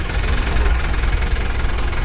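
Tractor hauling a sugarcane trolley idles nearby, a loud steady low diesel rumble with a knocking throb, continuous and without speech.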